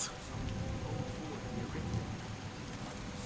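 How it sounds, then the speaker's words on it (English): Steady, hissing rainfall in Skyrim Special Edition, a dense continuous patter with a low rumbling undertone, moderately loud and unbroken throughout. "You can't hear him past the rain."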